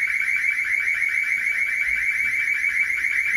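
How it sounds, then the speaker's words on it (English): A village hall panic alarm blares continuously, a loud, piercing electronic warble that pulses rapidly and steadily, filling the room at close range with no break and no voices heard over it. "So it seems like they just hit the panic button here."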